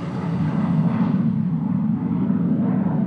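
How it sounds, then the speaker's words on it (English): A steady, loud F-16 fighter jet roar rumbling low and continuous, passing close overhead on landing approach. "an F 16, similar to what the Vermont Guard flies, landed moments later"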